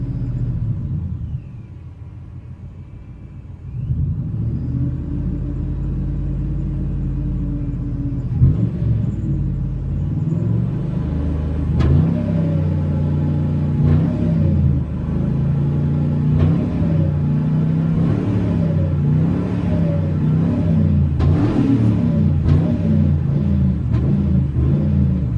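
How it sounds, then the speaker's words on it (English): A cold 2000 Ford F-150 with a supercharged 5.4 V8 cranks and catches, then settles into a loud, deep idle with several revs, accompanied by thin high-pitched belt squeals. "Hear the supercharger belt squeaking."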